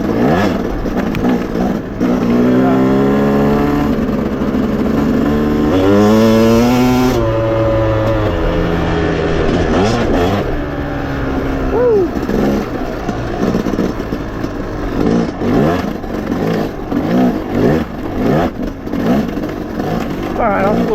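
A Yamaha YZ250X dirt bike on a sandy woodland trail ride, its engine loud and close, revving up and down in rising and falling sweeps with throttle blips throughout.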